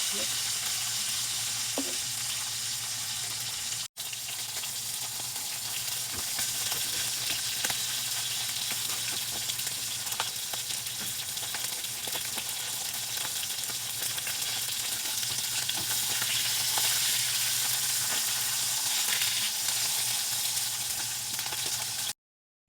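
Dried fish (daing) fries in a pan with a steady, loud oily sizzle and crackle, continuous throughout with a brief cut partway, a few faint clinks of stirring.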